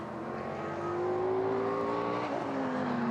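Dodge Viper race car on a circuit, its engine heard at a distance as a sustained, rising drone while it accelerates past, with a gear change near the end.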